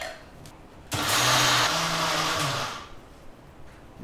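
A blender grinds soaked lentils into a paste for dal vada, starting abruptly into a loud, steady whirring roar close by. The roar lasts about two seconds and then cuts off, with no talk over it.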